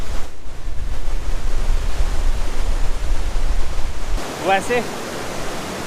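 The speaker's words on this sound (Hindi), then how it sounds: "नीचे एक नदी बह रही है, शायद काली गंडकी नदी का कोई ब्रांच होगा, शाखा होगा।" River flowing below a mountain trail on the Annapurna trek near Ghandruk, Nepal, a steady broad rushing roar of water under wind, with someone briefly speaking near the end.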